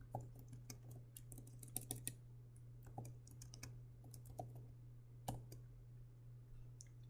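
A chart title being typed on a computer keyboard: quick, faint clicking keystrokes in irregular bursts with a few louder taps, over a steady low hum and no talk.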